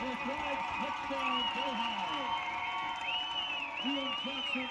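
A stadium crowd cheers a touchdown run at a high school football game in Delhi, with a steady roar that runs under continuous talk.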